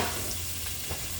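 Broccoli sizzling in olive oil in a pot, a faint, steady crackling hiss that stays even throughout with no voices over it.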